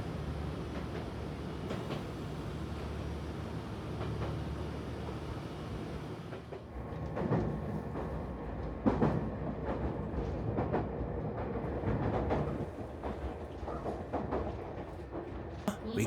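A train on the Kada Line in Wakayama rumbles steadily along its rails, with a constant low roar and occasional sharper clicks and rattles, heard from inside the carriage.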